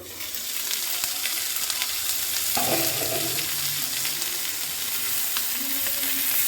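Cabbage baking in a covered pan on the stove, a steady close hiss and sizzle with a brief clatter midway, continuous to the end.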